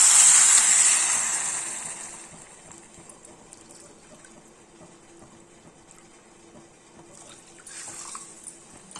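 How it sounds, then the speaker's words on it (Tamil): A loud gush of water pours into rice flour at first, then tapers to a quieter trickle and soft stirring, with a brief splash near the end. "கப் அரிசி மாவு எடுத்துருக்கோம் அதுக்கு ரெண்டு கப்பு தண்ணி விட்டுக்கலாம்"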